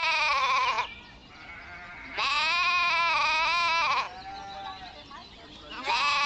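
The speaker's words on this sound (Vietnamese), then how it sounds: "Con dê." Three loud, drawn-out goat bleats, each wavering and about a second or more long, separated by short quiet gaps and heard close by with no talk.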